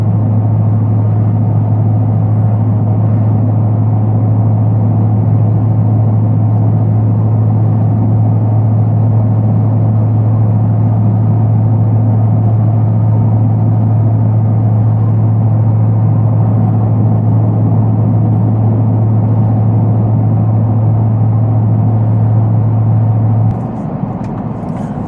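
A lowered, supercharged 2026 Ford F-150 Black Widow SR on the move: a constant, loud, deep engine drone with road rumble from inside the cab, holding steady almost to the end with no talk.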